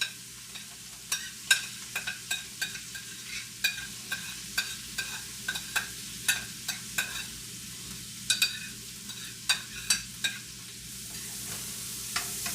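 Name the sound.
vegetables sizzling in a hot pan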